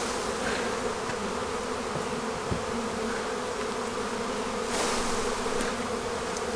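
Honey bees swarm and buzz loudly and steadily around apiary hives during a honey harvest that has set off robbing, a dense droning hum filling the whole stretch with occasional closer passes.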